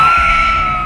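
A woman gives a loud, sustained high-pitched scream in a horror story. The scream is close and fades slightly across a brief moment.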